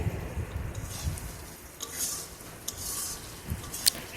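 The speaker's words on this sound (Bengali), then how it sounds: "এটাকে এখন ভালো করে নেড়ে চেড়ে ভালো করে ভাজতে হবে" Boiled jackfruit seeds and ridge gourd are stirred in a pan, a spoon scraping and rubbing against the metal in a steady irregular rhythm, close and fairly quiet, with faint sizzling underneath and no talking.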